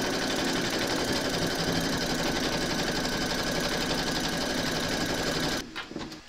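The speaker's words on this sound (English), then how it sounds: "Pop your hoop into your machine and stitch round number 2." An embroidery machine stitches an applique outline for a large skeleton design, running in a fast, continuous mechanical buzz close by, then stopping near the end with a few stray clicks.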